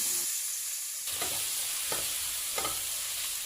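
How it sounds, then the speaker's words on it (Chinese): Minced ginger and garlic stir-fried in hot oil in a wok: a steady, bright sizzle throughout, with three distinct scraping strokes of the spatula at regular intervals, close and fairly loud, no talking. "下入姜蒜末炒出香味"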